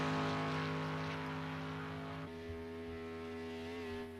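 GT3 race car engines in Project CARS 2 at the Nürburgring, a steady harmonic engine drone that steps down in pitch midway as revs change, held at moderate loudness and alone.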